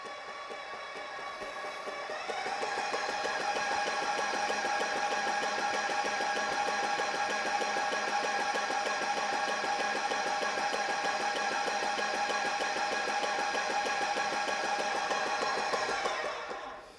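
An airless paint sprayer machine, turned down and with its hose loaded with paint, runs as a steady mechanical drone with a fast pulsing rhythm, starting after a quiet second or two and holding loud and unbroken until it stops near the end.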